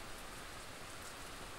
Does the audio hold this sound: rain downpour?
yes